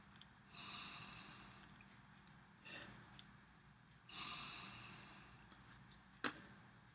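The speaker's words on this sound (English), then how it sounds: "I could get a little more if I don't sniff quite as intensely." Two long, airy sniffs of a glass of Cisco Brewers Grey Lady Ale, close to the microphone and separated by a pause, followed by a sharp short snort near the end, in a quiet room with no talking.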